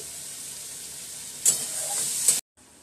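Eggs frying in a pan with a soft, continuous sizzle and hiss, brief louder bursts of stirring near the middle, then a sudden cut before the sizzle resumes faintly.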